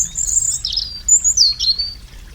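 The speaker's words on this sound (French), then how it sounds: "Écoutez le chant du rouge-gorge." A European robin sings alone and close, giving a run of high, thin warbling phrases and trills with short pauses between them over a quiet background.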